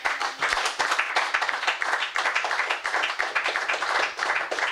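A church congregation claps and applauds together at a healing and miracles vigil, a dense, steady wash of many hands filling the space loudly and continuously, with no pauses.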